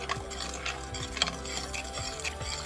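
A spoon stirs sauce for chicken saltimbocca in a pan with a steady swirling scrape, over a continuous low sizzle and occasional light clinks against the pan, close and fairly loud, with no talking.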